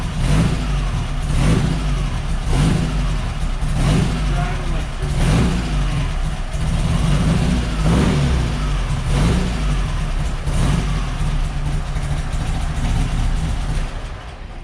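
A Baja Bug engine runs loud and close just after its first start, rough and uneven, revving up and falling back in repeated surges over its idle.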